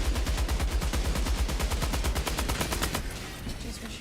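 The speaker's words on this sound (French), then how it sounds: "les mecs ils font un peu chier avec leur leur mitrailleuse là" Sustained automatic machine gun fire from enemy Automatons in the Helldivers II video game, a rapid steady stream of loud close shots for about three seconds, then easing off into a quieter battle rumble.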